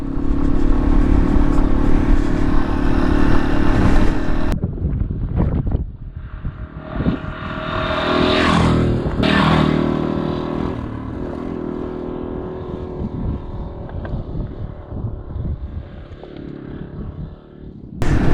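A Yamaha XT250 motorcycle engine starts and settles into a steady, close idle that runs loud and continuous to the end, with a brief shift in tone partway through.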